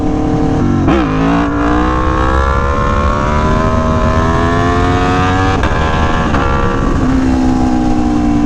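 A motorcycle engine in a MotoGP racing video game drones at high revs with rising and falling pitch as gears shift, a loud, continuous racing whine throughout.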